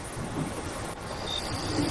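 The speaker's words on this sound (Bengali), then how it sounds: "সকাল থেকে টানা বৃষ্টি" Steady rain with rumbling thunder in a cartoon scene, a continuous, even wash of noise that stays at one level throughout.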